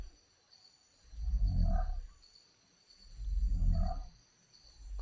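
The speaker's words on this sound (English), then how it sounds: "It's a Monster Hunter cry." A Monster Hunter video game monster gives two deep, rumbling roar-like cries, each swelling and fading over about a second with a short gap between, over a quiet background hum.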